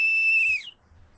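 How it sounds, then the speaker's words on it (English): A single sharp, shrill whistle blast is heard up close, held for about half a second before it cuts off into quiet. "I had to blow some whistles"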